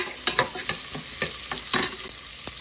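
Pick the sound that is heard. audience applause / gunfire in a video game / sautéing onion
sautéing onion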